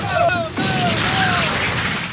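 An insurgent roadside bomb detonating under an M113 armored vehicle in Tal Afar, a sudden loud boom followed by a sustained rumbling roar of blast and debris, with a voice heard faintly before the blast.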